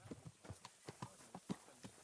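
Steady clip-clop of horse hooves in the video game Kingdom Come: Deliverance 2, an even rhythmic series of soft thuds, faint and unaccompanied by talk.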